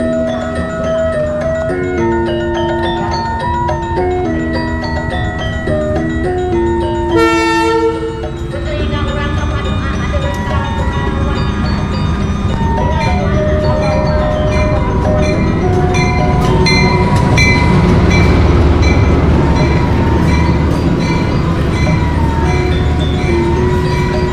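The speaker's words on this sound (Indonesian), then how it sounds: "masuk di jalur 1 ya, kereta api Serayu" The Serayu passenger train from Purwokerto to Pasar Senen pulls into platform 1 of an Indonesian station, with a loud melodic horn and chime announcement giving way to heavy rolling wheels and engine rumble nearby.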